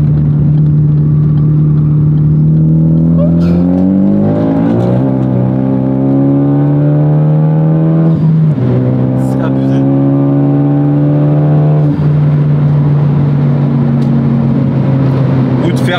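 Ford Focus ST250 engine revving loudly and accelerating through the gears, pitch climbing and dropping with each shift, sustained and close, with people talking over it.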